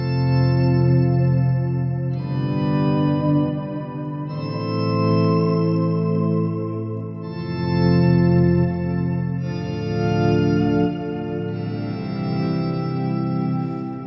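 Sustained electric guitar chords swell in slowly with a thick, deep octave-doubled tone, each chord ringing out and blending into the next.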